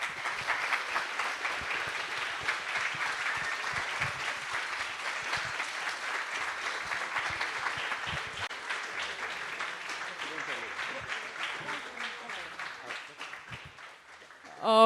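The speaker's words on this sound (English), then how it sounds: "big applause for all the finalists" Audience at a business plan presentation finals applauding the finalists: sustained crowd clapping that fills the room, slowly thinning toward the end before a louder burst right at the close.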